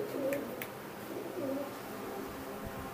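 Local Khulna pigeons kept in a room coo softly, with two or three low, faint calls over a quiet background hum.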